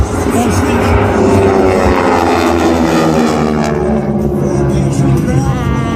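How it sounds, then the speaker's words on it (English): A trainer airplane flies past at the Dayton airshow, its engine droning loud and steady with a shifting, Doppler-like pitch, while an announcer talks over the noise and a crowd murmurs in the background. "the airplane is a fantastic trainer airplane and still very much in demand around the world"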